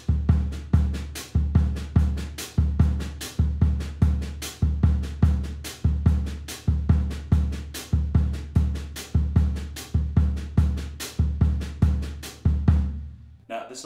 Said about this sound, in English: I'm just using the tip of my stick on top of the hi-hats,